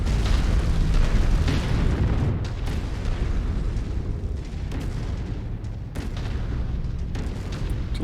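Continuous heavy booms and rumbling blasts from shooting and explosions in a video game roll on without pause, a dense loud wall of low-end impacts.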